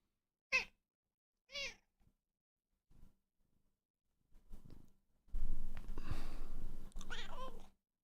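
A cat meows several times, short distinct calls with pauses, followed by a longer, louder stretch of yowling and meowing close to the microphone.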